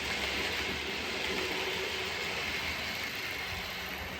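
A steady rumbling rail sound runs throughout, like an OO-gauge model steam locomotive rolling along a layout track at a constant pace, fairly distant and even.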